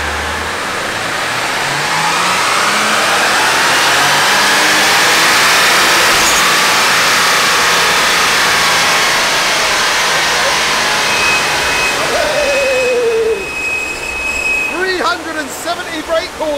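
A turbocharged budget car on a dyno, its engine droning loud and steady as revs climb and hold, then backing off near the end with a whistling turbo and popping exhaust bursts.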